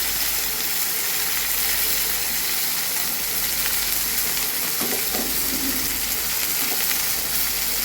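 Spices, salt and turmeric frying in a pan for a fish-head muri ghonto, a steady close sizzle running the whole time with a few brief stirring knocks near the middle.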